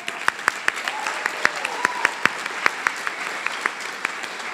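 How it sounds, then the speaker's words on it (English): An audience applauds a poet at a national finals event with steady, moderately loud clapping, a few individual claps standing out sharply from the even background. "Michael, je vous demanderai de vous lever, s'il vous plaît, pour qu'on puisse vous applaudir."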